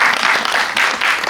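Audience applause at a film premiere talk event, a brief loud burst of dense clapping close up, with a slight dip midway before the clapping swells again.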